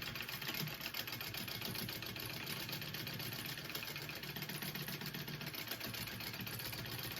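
Sewing machine basting fabric while assembling a mini backpack, a steady continuous motor whir running unbroken and fairly faint throughout, with no talk over it.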